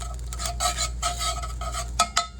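Onion, pepper and garlic stirred into a pan with strained beef, bursts of clattering utensil scrapes over a low steady hum, close by with no voices.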